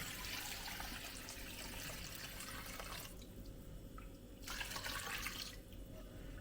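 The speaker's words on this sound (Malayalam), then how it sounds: "നല്ല കട്ടി കുറഞ്ഞ തേങ്ങാപ്പാൽ ഒഴിച്ചു കൊടുക്കണം" Thin coconut milk pours steadily into a pan for chicken curry, a soft continuous splashing and trickling that briefly stops twice, with no voices.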